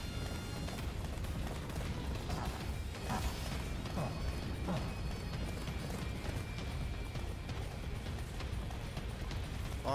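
Steady horse hooves clip-clop at a brisk pace over a continuous rumbling background in the video game Attack on Titan, with no talking.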